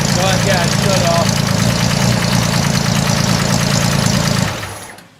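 A 1968 Ford Mustang's engine runs rich in a shop, a steady loud idle rumble with a rough knocking pulse and exhaust note, then cutting off abruptly near the end; voices murmur beneath.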